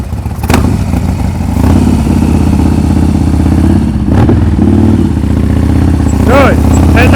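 A motorcycle putters at low speed during an advanced slow-speed riding practice session in Massachusetts. The engine holds a steady close idle with small throttle bumps, and voices are heard briefly.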